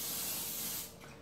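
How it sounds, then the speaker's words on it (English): Cooking spray spritzed into a glass microwavable loaf pan: one steady, close aerosol hiss lasting about a second, then tapering off. "spritz with cooking spray"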